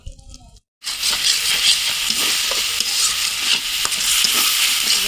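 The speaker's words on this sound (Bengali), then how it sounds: "মশলাটা কষিয়ে নেব ভালোভাবে।" Spice paste for a chelli fish curry with green chillies sizzles and is stirred in a hot pan, a loud, steady frying hiss with scraping strokes after a brief quiet moment at the start.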